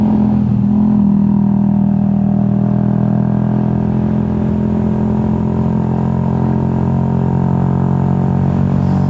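A motorcycle engine drones at a steady, close, loud pitch during a summer solo ride on the roads out of Manila toward Batangas, holding an even throttle with slight shifts in tone and no talking.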